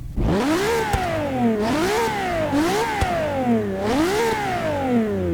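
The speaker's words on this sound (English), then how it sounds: "just listen to this V12." A loud Ferrari LaFerrari V12 engine in Forza Motorsport 6 revs high, its pitch climbing again and again and dropping back between gear shifts, continuous with no talking.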